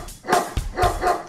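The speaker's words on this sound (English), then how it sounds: "There was a farmer had a dog and Bingo was his name" Barks from the farmer's dog in a nursery rhyme children's song, with about four short yapping bursts spaced evenly across a second, sitting close and fairly loud with no singing over them.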